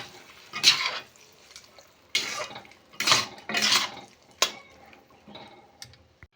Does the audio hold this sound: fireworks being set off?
no